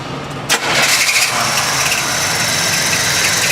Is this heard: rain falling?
no